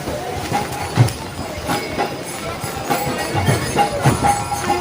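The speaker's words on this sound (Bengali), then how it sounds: "ট্রেন বেরিয়ে যাবে রামপুরহাটের দিকে" The Maa Tara Express pulls out of Prantik station, with a rhythmic clatter of wheels over rail joints and a steady rumble of carriages heard nearby.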